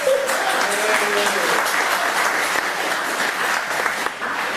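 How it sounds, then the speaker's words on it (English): An audience at an annual general meeting applauds a newly elected MPP, sustained even clapping from a crowd, with a voice briefly heard at the start. "we should just give her a bigger round of applause for that"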